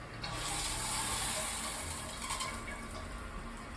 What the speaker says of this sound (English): Here's the water pressure over here, and the water pressure not bad over here.